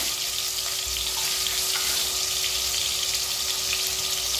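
Onion frying in hot oil for an okra thokku, a steady, dense crackling sizzle that holds evenly from start to finish, close and fairly loud.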